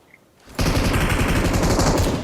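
Automatic gunfire in PUBG Mobile starts abruptly after a short quiet moment, then runs as a loud, rapid, continuous burst of close shots.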